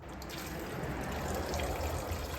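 Cleaning solution trickling and pouring into the hot water of a Vevor ultrasonic parts cleaner, a steady close splashing stream with no talk over it.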